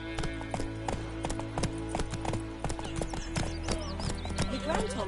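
Horse hooves clip-clopping at a steady walking rhythm in The Witcher 3 video game, with a whinny, background music and a voice speaking over it.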